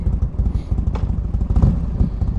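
A motorcycle engine idles and runs steadily nearby, a continuous low rumbling throb with light mechanical clatter, loud and alone without talk.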